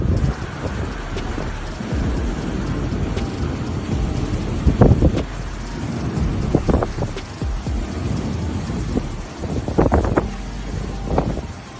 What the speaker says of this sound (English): The footage vividly showcases the havoc unleashed by the tornado as power lines crumbled under its force